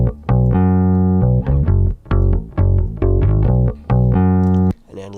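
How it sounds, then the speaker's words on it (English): Clean, dry bass guitar plays a bouncy riff of short and sustained notes, close and clear with no effects, alone. "This is the bass DI on its own."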